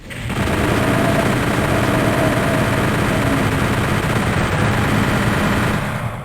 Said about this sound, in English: The gunshots are going to have a lot more reverb when you're standing inside